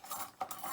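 A fork stirring noodles in a container, a brief soft clatter and scrape of metal, faint and close.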